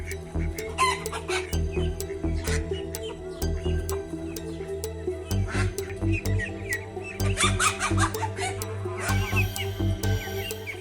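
Rooster clucking repeatedly at close range over a steady low hum, with sharp squawks and clucks coming in irregular bursts throughout.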